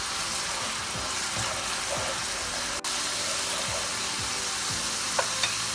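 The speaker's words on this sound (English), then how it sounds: "Keep stirring for 3 to 4 minutes." Bengali tel koi fish curry fries in an oiled pan, giving a steady sizzle broken by regular scraping stir strokes and a few soft clinks.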